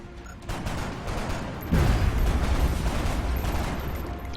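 A grenade explodes in XCOM: Long War, a heavy boom landing midway through ambient battle noise and leaving a rumbling, crackling tail that lingers at a loud level.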